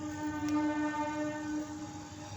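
A train passes at Tenali in Andhra Pradesh, its horn sounding as a sustained tonal blast over rumbling rail noise, fairly close and with no talk.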